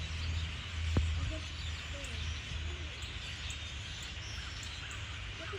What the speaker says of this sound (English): Look at these freaking birds